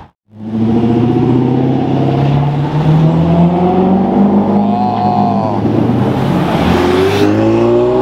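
Chevrolet Corvette accelerating past on the street, a loud close engine roar with rising and shifting tones that holds strong for several seconds.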